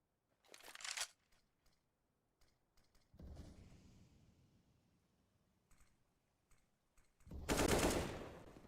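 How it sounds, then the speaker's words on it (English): Rapid automatic gunfire from the video game Counter-Strike: Global Offensive comes in two sharp bursts, one early and a louder one near the end, with faint scattered shots and a fading rumble between them. "as we do see Rolf firing shots back and forth"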